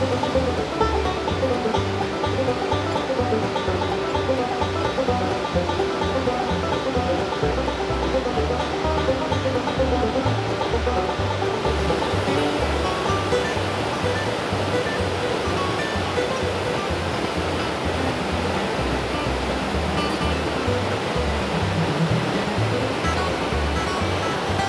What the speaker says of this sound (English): Isn't this a beautiful waterfall?